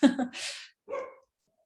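A dog in a home during an online webinar gives two close, fairly loud barks, the first longer and rougher and the second shorter, followed by silence.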